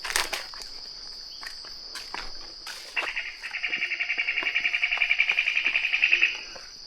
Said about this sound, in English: we hear a bunch of different noises. Yeah, all around here. Birds and insects